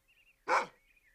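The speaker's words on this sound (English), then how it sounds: "A dog." A dog gives a single sharp bark, close and clear, against a quiet background with a faint high tone before and after.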